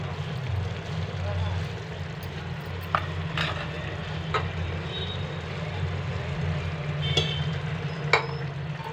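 A broad bean and tomato curry simmers and sizzles in a pan under a steady low bubbling, with a few brief clinks of a spoon stirring, while a voice talks over it.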